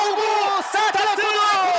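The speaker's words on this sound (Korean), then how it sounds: "자원봉사자들 그리고 많은 관중들 윤성빈을 응원합니다" Spectators at the Olympic skeleton track shout and cheer together for Korean racer Yun Sung-bin, a sustained, close chorus of voices with rising whoops.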